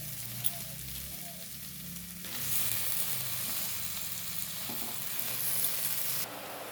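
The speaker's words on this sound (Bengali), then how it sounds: "এই যে মশলাটা আমার ভাজা হয়ে গেছে, এবার আমি কচু পাতাটা দিয়ে দেবো।" Taro leaves going into a pan of fried onion, garlic, spices and coconut, giving a steady close sizzle with light stirring scrapes, louder after the leaves drop in, with no talk.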